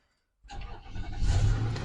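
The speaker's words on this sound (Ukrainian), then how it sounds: "Моторчик е, працює тихенько" A 2014 Infiniti QX80 engine starting after a brief silence, then idling and building into a steady, close, moderately loud running sound with no talking.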